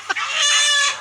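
A chicken squawks in one loud, close, drawn-out distressed cry as it is being caught, with a short cluck at the start.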